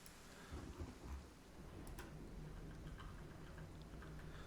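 Rain in the video game Kenshi, a soft, continuous hiss of falling rain with low rumbles, faint and steady throughout.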